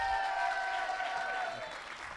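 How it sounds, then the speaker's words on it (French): A conference audience applauds the arriving guests with dense, continuous clapping that tapers slightly over two seconds while a tonal sound glides beneath it. "je vous demande un tonnerre d'applaudissements pour Vincent, Françoise et Marion"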